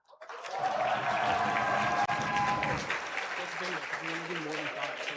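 A crowd at an esports banquet breaks into loud, dense applause and cheering that swells quickly, holds for a few seconds, then thins out as a voice begins talking over it.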